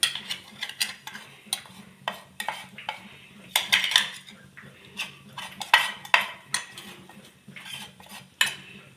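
Almonds sautéing in ghee in a pan are stirred with a metal spoon, producing quiet, irregular scraping clinks and clatters over a faint sizzle, with no voices.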